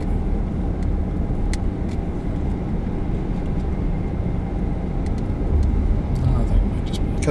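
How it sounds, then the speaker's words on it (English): A car driving at night near a lake, its engine and road rumble a steady, close, loud drone throughout, with faint clicks above and people talking inside the vehicle. "Because look, we're driving."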